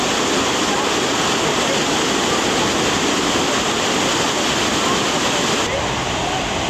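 Water rushing hard into a canal lock chamber near Béziers, a dense, steady roar of churning flow filling the whole scene at close range, unbroken for several seconds.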